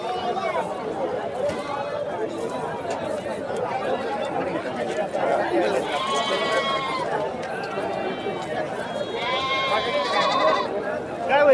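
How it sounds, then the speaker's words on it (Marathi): Goats bleating at the Lonand goat market, two clear bleats rising above a constant hubbub of crowd chatter and people talking nearby. "अशा चांगल्या क्वालिटीच्या शेळ्या आपल्याला या ठिकाणी पाहायला मिळत आहेत"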